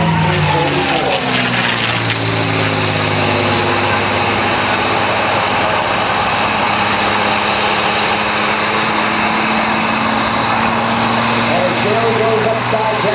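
A WWII-era Allied propeller fighter with D-Day invasion stripes roars through an airshow routine, its loud sustained engine drone sweeping in pitch as it passes and rolls, while an announcer talks over the noise throughout.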